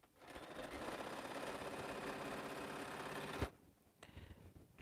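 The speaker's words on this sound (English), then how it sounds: "I might have one more row I can sew after this" A sewing machine stitches a quilt row in a steady, rapid close-up whir for about three and a half seconds, then stops abruptly, leaving quiet room tone and a faint stir.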